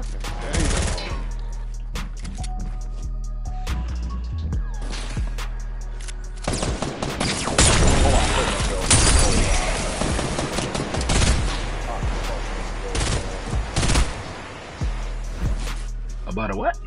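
Rapid bursts of video game gunfire, with a loud dense stretch in the middle, sounding under a player's talk while enemies are shot in mid-air.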